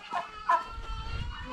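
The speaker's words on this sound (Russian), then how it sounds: "А это вот обычные индюки." Domestic turkeys on a family farm give a couple of short, close gobbling calls, followed by low rumbling noise.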